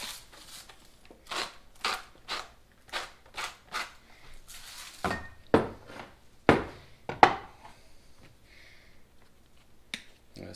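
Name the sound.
grinding salt with a salt grinder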